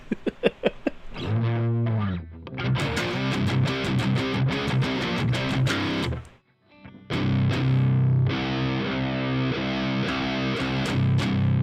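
Drop-tuned hard rock and metal riffs on electric guitar through a JHS NOTADUMBLE overdrive pedal kit, loud and distorted with chugging palm-muted chords, a brief gap near the middle, then heavy riffing again.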